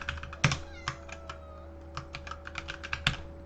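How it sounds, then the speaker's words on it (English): Indoors, a pet cat that wants to go outside gives faint, intermittent meows behind the steady clatter of computer keyboard typing, with a couple of sharper key or desk knocks. "pay no mind to my kitty that she wants to go outside"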